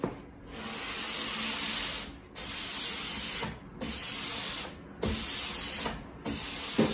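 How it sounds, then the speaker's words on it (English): Sandpaper wrapped on a sanding block rubs across pine wood in steady, close strokes, each long scraping pass broken by brief pauses, with no voices. "So I just use it as a sanding block because I use it like this on wood."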